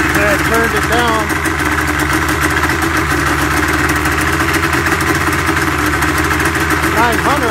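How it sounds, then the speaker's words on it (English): A 2000 Yamaha SRX 700 snowmobile fitted with a DG aftermarket can, idling low after a power valve adjustment: loud, steady, buzzing engine drone close by, with someone speaking over it throughout. "I forgot to turn up the idle after I adjusted the power valve."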